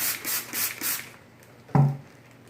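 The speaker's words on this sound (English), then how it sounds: "Spray the inside of this bag nice." A spray bottle misting water inside a plastic bag: three quick soft hissing spritzes close by, followed by a brief sharp rustle of plastic.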